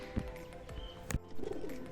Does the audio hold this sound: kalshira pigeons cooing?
yes